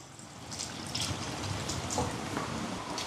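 Tamarind water poured into a pot of Jaffna crab curry, a steady soft trickling and splashing of liquid heard close up, continuous for a few seconds with no speech.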